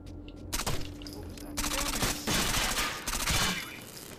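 Rapid bursts of automatic gunfire from the shooter game Rainbow Six Vegas 2, loud and close, firing in several clustered volleys across a few seconds with a brief pause between them.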